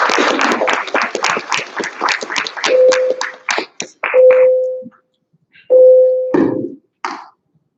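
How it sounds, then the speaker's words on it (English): School audience at the Wertheimer 2019 spelling bee clapping for the top five finalists, a burst of applause that thins into scattered claps, broken by sustained electronic beeps near the end. "So let's give them a big round of applause."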